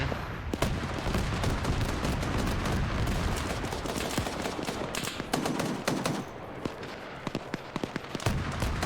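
APC autocannon firing in the military game Arma 3, dense rapid bursts of shots over continuous battle noise, loud and sustained throughout, with no talking.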